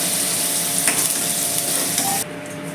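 Potatoes fry in oil in a pan for a light chicken and papaya curry. A loud, dense sizzle runs continuously at close range, then drops away abruptly near the end.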